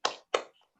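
Two sharp, close hand claps in quick succession from a children's rhythmic clapping chant, Tepuk PPK, in a classroom lesson, each clap ringing briefly before fading into quiet.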